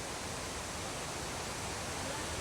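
A waterfall beside a riverside lodging in Laos, a steady broadband roar of falling water, constant and fairly close with no variation and no voices.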